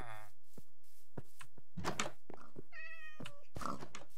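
Minecraft cat meowing in the video game, several short meows in a row, fairly close and clear, over faint background game sounds without talk.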